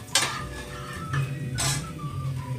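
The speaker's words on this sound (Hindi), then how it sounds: "मैं लगा रही हूँ अपनी दाल को तड़का।" Metal utensils clink and clatter against a pan as dal is tempered in a home kitchen; two sharp, close clanks stand out above a low, steady background hum.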